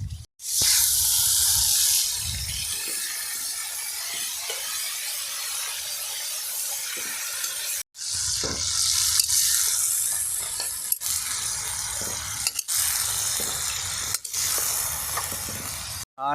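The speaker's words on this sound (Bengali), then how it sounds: "পেঁয়াজটা প্রায় ভাজা হয়ে গেছে, এবার মটনটা দিয়ে দেবো।" Mutton meets hot fried onions in a pan, bursting into a loud hissing sizzle that settles into a steady fry with scattered stirring clatter, then flares again after a short break; no one speaks.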